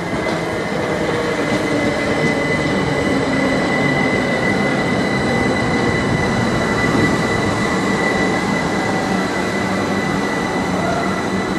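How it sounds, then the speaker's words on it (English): A train rolls through Havant station close by with a loud, continuous rumble and a faint squeal of wheels lasting throughout, with no talking. "Another train."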